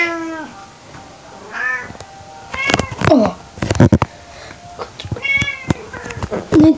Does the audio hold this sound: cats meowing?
yes